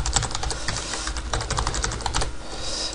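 Fingers tap a computer keyboard to enter a password, a quick close run of crisp clicking keystrokes with brief pauses, alone without talk.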